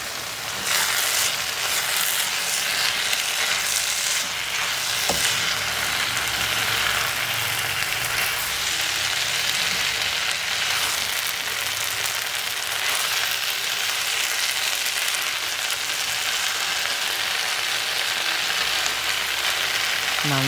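Roasted vermicelli upma with green peas is stirred in a hot pan, giving a continuous loud sizzle and frying hiss. Occasional scraping runs under it throughout, with no voices.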